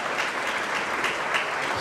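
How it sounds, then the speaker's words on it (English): Crowd applause at a chamber of commerce awards evening in a large venue, a brief, continuous burst of many people clapping at even loudness throughout. "Give yourselves a round of applause."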